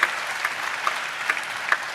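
A church congregation claps at a Telugu sermon, a handful of sharp, spaced hand claps ringing out over a soft, steady room background.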